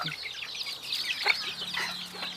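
Bantam chickens in a backyard coop cluck and chatter softly, several birds overlapping in short, busy calls at close range, with a low background hum.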